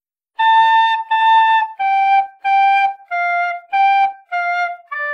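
A breathy flute plays a short melody from the Spider-Man theme, eight separate notes, each held briefly with small gaps, stepping downward and ending on a low D.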